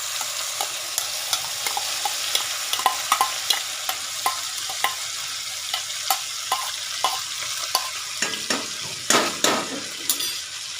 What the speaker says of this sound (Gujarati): આપણે એનો વઘાર કરવાનો છે. એમાં આપણે હિંગ નાખીશું. હવે આપણે દાળ નાખીશું.